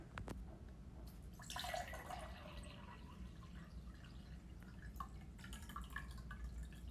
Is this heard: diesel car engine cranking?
no